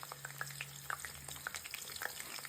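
Chopped onions and green chillies fry in hot oil for an egg fry, giving a steady close sizzle broken by light scraping stirs, with no talking.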